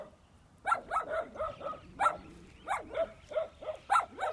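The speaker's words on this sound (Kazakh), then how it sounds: "бул жерде азыр биздин эсептегенибиз боюнча 1 2 3 4 5 6 7 8 ит бар экен" A pack of about eight dogs at a garage dump barks repeatedly from a moderate distance, with sharp, overlapping barks coming in an uneven rhythm.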